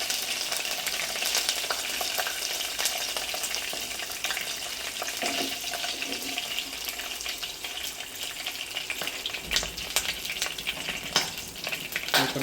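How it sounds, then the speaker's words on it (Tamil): Curry leaves and dried red chillies fry in hot oil for a prawn masala, giving a steady, close, crackling sizzle with no talking. "இப்போ நல்லா பொரியுது."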